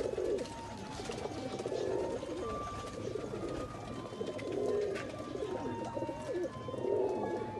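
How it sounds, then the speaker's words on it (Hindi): Several pigeons, pairs and flying birds of mixed breed, coo in soft, repeated low warbles close by, with faint chatter and rustling in the background. "ये जोड़ों वाले और परवाजी कबूतर हैं"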